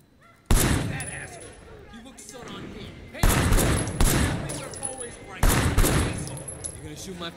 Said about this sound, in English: Drei Schüsse